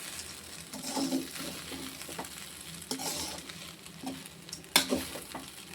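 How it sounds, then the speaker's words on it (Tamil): Coconut rice being stirred in a pan with grated coconut, the spoon scraping and turning it in irregular strokes over a soft sizzle, with one sharp clink near the end. "இது எல்லாமே இந்த சாதத்தில் இப்போ ஒட்டுற மாதிரி நம்ம கிளறி விட்டுக்கிறணும்"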